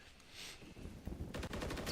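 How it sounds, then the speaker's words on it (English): Rapid automatic gunfire in the video game Call of Duty during an esports match, a dense burst of shots, followed by a loud, fast stream of rounds in the second half. "but gunshots going out, trying to shoot around that barrel."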